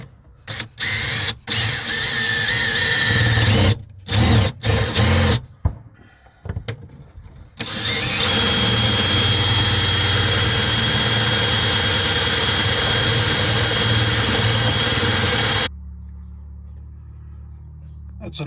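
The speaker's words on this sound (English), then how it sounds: "I'm just going to use the 1-inch drill bit for that" A power drill with a 1-inch bit bores a hole through a cargo trailer wall, starting in short choppy bursts, then grinding loudly and steadily for about eight seconds before cutting off to a lower hum.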